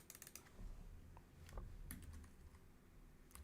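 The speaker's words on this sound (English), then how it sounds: "I'm having trouble typing on my keyboard for a couple of reasons." Fast, irregular clicking of keys on a computer keyboard during a live web design session, close and fairly quiet, with scattered louder keystrokes and no talking.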